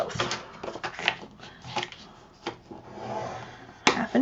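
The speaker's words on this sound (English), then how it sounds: "we're going to score this at 1/2 inch and at 1 inch" Cardstock being scored on a scoring board for a shaker folio craft project, heard as a series of close, dry scraping and tapping strokes with light handling noises between them.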